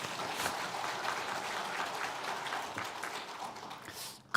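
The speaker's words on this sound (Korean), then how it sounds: "박수를 칠까요?" Congregation applauding during a Sunday worship service in a Korean church, a steady, dense wash of clapping from many hands that fills the room and fades slightly near the end.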